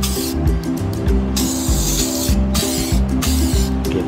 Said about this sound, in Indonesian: So sekarang kita spray sikit-sikit.